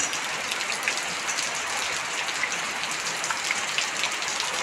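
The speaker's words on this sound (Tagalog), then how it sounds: "Okay na kung ganito-gantong ulan lang." Steady rain pouring during a typhoon in Lemery, Batangas, a dense even hiss of drops hitting surfaces, continuous and close without a break.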